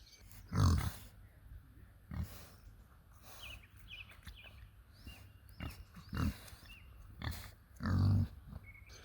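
Free-range organic pigs grunt and oink in short, irregular bursts beside a mud pool, some loud and close, with quieter snorts between them outdoors.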